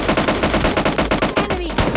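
A Scar-L rifle fires rapid automatic bursts in a mobile battle-royale shooter, loud and close, with sharp repeated cracks that barely pause over two seconds.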